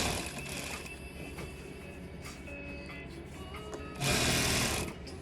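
Sewing machine stitching and tacking the corner of a seat cushion's fabric, a steady close mechanical whir that grows louder near the end.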